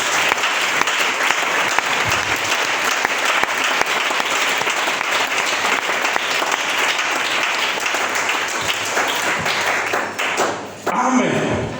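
Loud, sustained applause from a church congregation, steady clapping for about ten seconds before it fades out.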